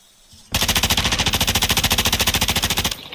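Enemy automatic gunfire in the DMZ video game rattles out as one loud, close burst of about two dozen evenly spaced rapid shots that stops abruptly.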